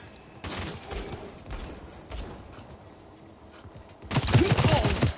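Video game gunfire in scattered bursts of sharp cracks and rattles, growing into a louder, denser volley near the end, mixed with background game noise.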